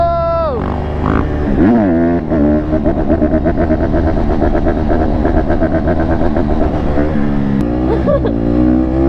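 A 150 dirt bike engine revs and rides close by, its pitch rising and falling as the throttle opens and eases, loud and continuous with a voice shouting briefly.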